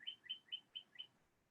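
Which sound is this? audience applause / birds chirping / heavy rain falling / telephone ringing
birds chirping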